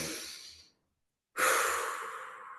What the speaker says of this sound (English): Everybody take a deep breath.